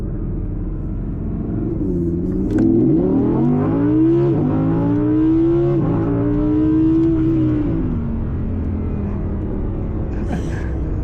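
An Audi R8 V10 engine idles with a deep rumble, then revs up and down in long rising swells, loud and close, without talk.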